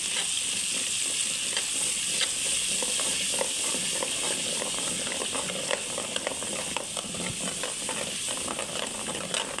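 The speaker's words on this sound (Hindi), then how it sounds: "ऑयल के अंदर हम ये प्याज वाला डाल देंगे जो हमने पेस्ट बनाया था। अच्छे से मिक्स करेंगे।" Onion paste frying in hot oil for a creamy white chicken karahi, a steady dense sizzle with scraping stir strokes running throughout, close and continuous with no talk.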